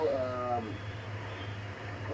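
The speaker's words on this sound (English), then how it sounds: "Cat." A cat meows a few times with a wavering, harmonic cry in the first half-second, fairly close, over a steady low hum in a room where ham radio gear is being set up.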